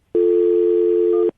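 A steady telephone dial tone from an outgoing call to a contact at the Seattle Seahawks sounds loud and close, holding one unbroken note for just over a second with no voices over it.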